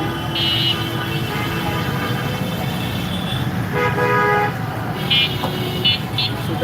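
A jammed city street during morning traffic, with engines rumbling steadily and several car horns tooting in short bursts, some nearby and loud, others farther off.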